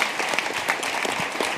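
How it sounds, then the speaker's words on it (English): Steady applause from an audience thanking the panelists at a talk on fibre-based packaging, a dense wash of clapping that holds evenly for the whole moment with no voices on top. "If I can have a big round of applause for the panelists."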